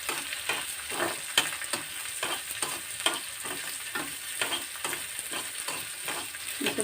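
Dried red chillies for a tempering fry on low heat in a pan, a soft continuous sizzle broken by regular scraping strokes of stirring, close and fairly quiet.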